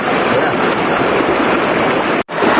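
Cold river water where a group of friends is bathing and splashing, a loud, steady rush of broadband water noise filling the scene, with one brief dropout near the end.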